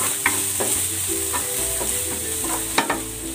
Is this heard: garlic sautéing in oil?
yes